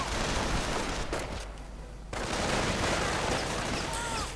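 Gunfire in a World War II strategy video game, dense bursts of rifle and machine-gun fire rattling almost continuously, with a brief lull before the shooting resumes.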